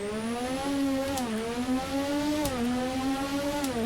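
A turbocharged race car on the Detroit Belle Isle time-attack course drops a gear and then pulls hard under acceleration. The engine note is loud, close and steady, with a rising tone and sharp shift blips in between.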